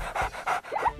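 A dog pants close by in quick, rhythmic breaths, with short bursts of huffing repeating about three times in a second, loud and alone without talk.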